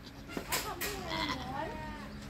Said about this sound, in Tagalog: hanggang doon may kambing.